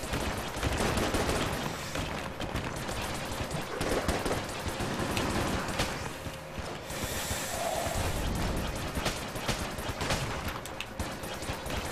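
Continuous rapid gunfire in Enter the Gungeon, a dense, loud stream of overlapping shots and mechanical clatter that runs unbroken for the whole stretch, with no talk over it.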